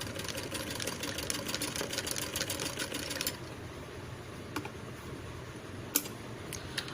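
Sewing machine running steadily while double-stitching a blouse seam, a continuous mechanical whir that stops partway through, followed by a few faint clicks and taps.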